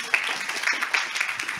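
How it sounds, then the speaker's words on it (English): A church congregation claps hands in praise, a steady dense patter of many hands, loud and close, with voices mixed into the clapping throughout. "Can you give God a hand clap of praise?"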